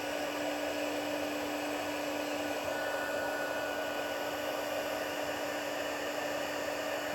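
A heat tool blows continuously with a steady, loud whooshing hum as it melts embossing powder on a paper card, held close and unbroken throughout.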